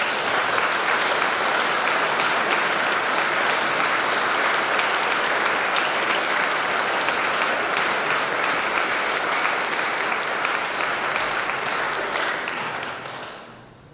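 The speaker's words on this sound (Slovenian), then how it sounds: "naredimo izjemo in si zaslužijo en aplavz" A congregation in a church at a first Mass in Slovenske Konjice applauds the singers with dense, steady clapping that fills the space for a long stretch, then fades quickly at the end.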